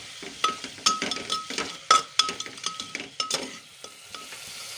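Chicken frying in a pan while being stirred, with a soft sizzle under a string of sharp metallic clinks and scrapes from the spoon against the pan, close and unaccompanied by talk.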